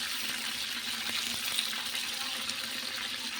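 Garlic frying in hot oil, a dense steady sizzle with faint scattered pops, close and continuous with no voices.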